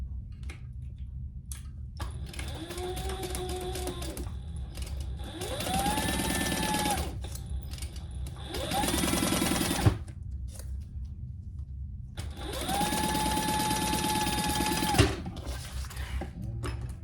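A sewing machine bastes a zipper into a tote bag, running in several bursts of quick rhythmic stitching with whirring motor pitch rising and falling, broken by short pauses and faint mechanical clicks.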